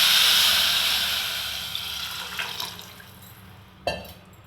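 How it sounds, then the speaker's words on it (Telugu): Water pours into a cooking pot of seasoned vegetables for vegetable rice, a steady close rush of splashing that gradually fades, ending with a few faint drips and one small clunk. "ఇప్పుడు ఇంకా వాటర్ వేసేద్దాము."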